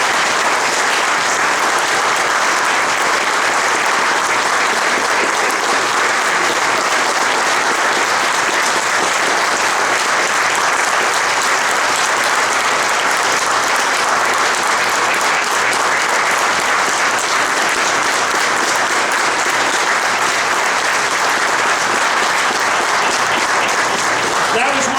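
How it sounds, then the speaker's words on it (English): A restaurant audience in Schuylkill County, Pennsylvania gives state troopers a long, steady round of applause, dense clapping sustained evenly without a break from start to finish. "I'd like to give them a round of applause"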